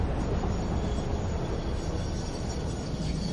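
Train rolling through a factory world in the video game Satisfactory, a steady, dense rumble of wheels and carriages with no pauses or voices over it.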